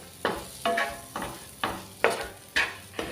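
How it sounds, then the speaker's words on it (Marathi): A spoon stirs coriander into a stuffed bitter gourd masala in a pan after the heat is off, six regular scraping strokes about half a second apart, close and fairly loud, with no voices. "आपण ह्यामध्ये घालायची कोथिंबीर आणि ती सुद्धा आपण मिक्स करून घेऊया"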